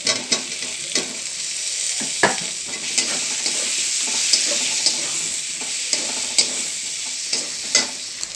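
Fried potatoes are stirred into sizzling masala in a pan, with bright continuous frying hiss broken by repeated spoon scrapes and knocks at an uneven rhythm.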